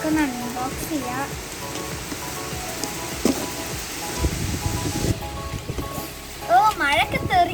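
Rain blown by strong wind in hilly Attappadi, a steady hiss of drops splashing on surfaces with gusty swells, while a person talks over it.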